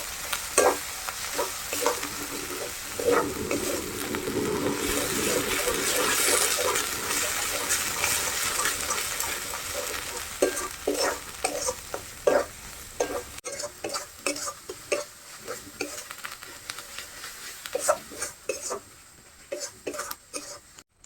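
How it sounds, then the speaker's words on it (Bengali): Cumin, garlic and green chili paste frying in a pan for a duck curry, a loud continuous sizzle with repeated stirring scrapes and clinks that thins out toward the end, close by with no voices. "জিরা বাটা, রসুন বাটা, কাঁচা লঙ্কা বাটা দিয়ে দেবো। দিয়ে ভালো করে ভেজে দেবো মশলাটা।"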